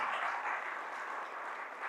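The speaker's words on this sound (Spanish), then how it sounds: "Dele ese fuerte aplauso a nuestro Dios" A church congregation applauds God with a steady, fairly faint wash of clapping hands, continuous and even throughout, heard somewhat distant.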